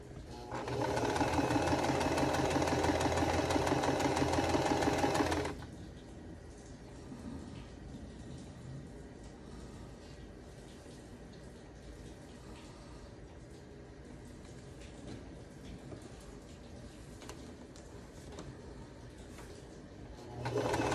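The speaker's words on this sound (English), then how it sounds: "the other 4, we're going to be sewing from the opposite direction." A sewing machine stitching a quilt block runs loud and fast for about five seconds, then stops, leaving a low background hum before the needle starts whirring again at the end.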